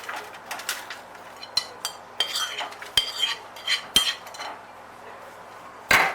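Metal spoon clinking and scraping against a bowl and pan while a buttery crushed-biscuit base for a no-bake maple caramel slice is pressed in, a series of irregular close taps and clinks with quiet gaps.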